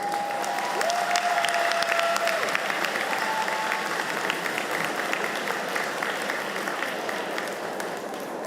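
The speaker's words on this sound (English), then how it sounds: "Let's please give Dr. Taylor another round of applause." Sustained applause fills a hall at a College of Agriculture commencement ceremony. A large crowd claps steadily at even strength for over eight seconds, with a brief voice near the start.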